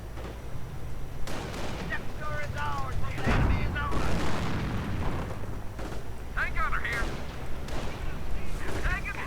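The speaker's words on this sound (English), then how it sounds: "Grenade against the riflemen, getting quite a few of them." Grenade blasts and rifle fire in a World War II real-time strategy game battle, with booms and bursts of gunfire scattered across the stretch beneath continuous talk from a commentator.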